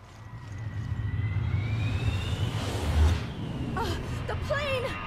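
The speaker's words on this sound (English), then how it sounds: "The plane!" An airplane in Resident Evil Revelations roars steadily overhead, a broad engine rumble that swells toward a peak and then carries on, with a short vocal gasp near the end.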